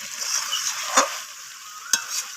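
Chicken curry being stir-fried in oil with chopped coriander leaves, a steady close sizzle broken by two sharp spatula scrapes against the pan.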